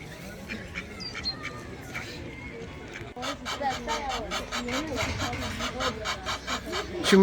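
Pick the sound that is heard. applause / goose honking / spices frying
goose honking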